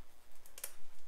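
Fresh garden parsley torn apart by hand, heard as a few faint, crisp crackling snaps clustered together, close up and quiet with no talking.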